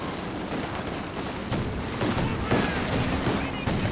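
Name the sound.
mortar shells and gunfire in video game Company of Heroes 2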